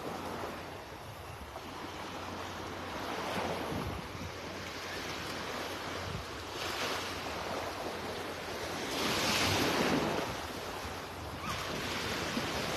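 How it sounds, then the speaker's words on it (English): Gentle surf rolls onto the sand at Delnor-Wiggins Pass beach in North Naples on an Easter Sunday morning, with soft, distant wave washes swelling and fading under steady wind rumble against the microphone. "This is the beach you want to be on Easter Sunday."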